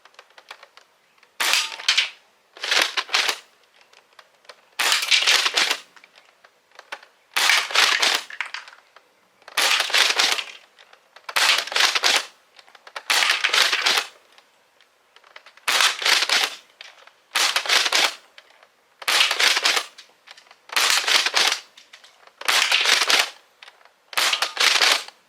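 Dart Zone Max Dictator foam dart blaster firing at targets: roughly a dozen short, sharp bursts of clattering shots separated by quiet gaps, with no speech.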